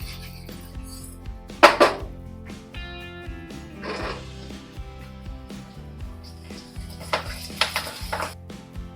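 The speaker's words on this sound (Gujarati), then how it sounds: "હવે આપણે આ ભૂંગળીને પણ તળી લેશું" Bhungli pellets fry in hot oil in a pan for mamra chevdo, a soft sizzle broken by loud metallic clinks and scrapes of a ladle stirring against the pan, close and without talk.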